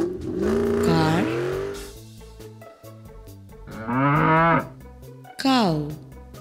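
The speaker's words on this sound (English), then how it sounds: "Cow." A cow moos several times, long low bellowing calls with pauses between them, heard alone over a quiet musical backing with no talking.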